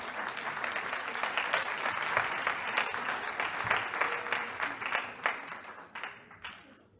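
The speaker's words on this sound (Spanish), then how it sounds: "Damos un aplauso de bienvenida a nuestros hermanos" Congregation at a church service gives a welcoming round of applause for visiting brothers from Madrid, steady dense clapping filling the room for several seconds before thinning out near the end.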